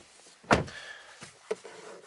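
A 2020 Audi Q3 Sportback 45 TFSI door shuts with one solid, muffled thunk in a quiet setting, followed by a couple of faint softer knocks.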